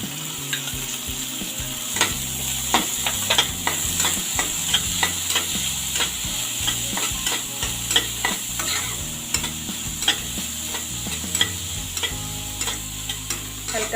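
Finely chopped onions fry in a pan with ginger for pav bhaji. Steady sizzling runs under repeated rhythmic scraping strokes of a spatula, close and clear, with background music underneath.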